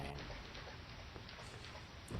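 Steady rain in the video game Deadly Premonition, a constant dense hiss of falling drops that holds evenly throughout with no voices over it.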